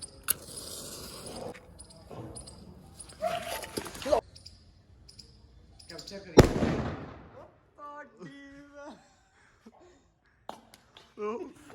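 Diwali firecracker bombs go off outdoors with a sharp loud blast and scattered crackling bangs, while people talk and shout nearby and a dog barks.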